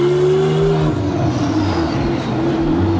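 Twin-turbo 3.8-liter flat-six boxer engine, mid-rear mounted in a supercar, roars loud and close in a steady sustained drone with harmonic engine tones holding for about three seconds.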